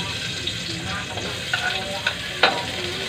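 Chopped onion and garlic hit hot oil in a pan with a steady, close sizzle, punctuated by a few sharp crackles and scraping stirs.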